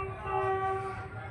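A train pulling out of platform 2 at Rajkot Junction, a steady horn-like tonal drone over low rumbling rail noise at moderate distance.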